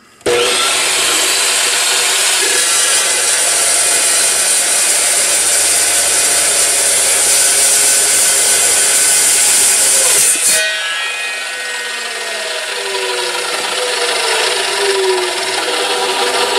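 A power tool cuts steel for a 12-volt alternator mount on a Farmall Cub tractor, a loud steady whine with grinding rasp lasting about ten seconds, then cutting off into a quieter lingering hum as the blade spins down.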